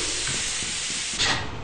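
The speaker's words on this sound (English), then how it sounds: "Oh, crap, there's steam." A valve in Lethal Company vents steam in a steady, loud hiss that swells briefly toward the end, with no voices.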